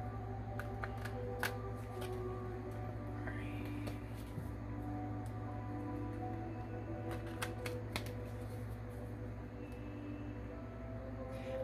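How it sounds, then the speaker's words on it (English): Tarot cards are riffled and shuffled softly and close up, with quiet rustles and taps over a low steady hum. "I am shuffling this week."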